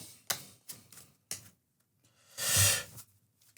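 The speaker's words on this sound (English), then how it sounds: "let me shuffle the deck back up" Playing cards shuffled by hand during a solo tabletop session of the board game Fliptown, heard as a few sharp riffle bursts followed by a longer, louder whirring riffle, close and with no voices.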